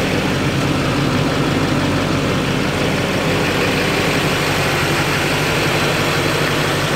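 A Duramax pickup truck's engine idles steadily, a loud, constant low drone that holds unchanged from start to finish, with no talking.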